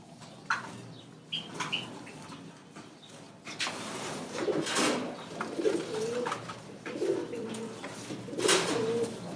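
Fancy pigeons, including original khaki birds, coo repeatedly inside a loft, the rolling coos close and clear with light rustling and wing movement between calls.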